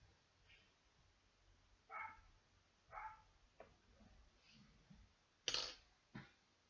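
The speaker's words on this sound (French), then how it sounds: "ce petit chien de mon voisin." A neighbour's small dog barks a handful of times at a distance, giving short, sharp yaps spaced irregularly, with one louder bark near the end, over a quiet indoor background.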